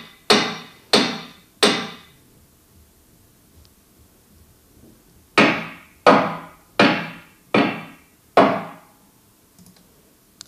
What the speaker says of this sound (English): hammer on steel.